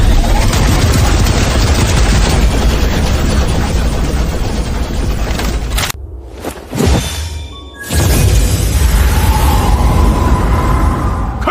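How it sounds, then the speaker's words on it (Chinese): Continuous rapid gunfire roars loud and dense for several seconds in an animated battle scene, then breaks into a whooshing blast and sharp explosive bursts before the heavy shooting resumes. "开火！ 把这小子给我轰成渣！"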